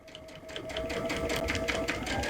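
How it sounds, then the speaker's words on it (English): A Baby Lock Crescendo sewing machine stitches steadily up close, its fast rhythmic needle chatter and motor hum running throughout. "So as I start stitching, it's going to pull through very seamlessly."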